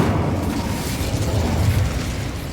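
Incendio fire spell cast in Hogwarts Legacy, heard as a heavy, rumbling whoosh-boom that swells and sustains for a couple of seconds, loud and close with no talking.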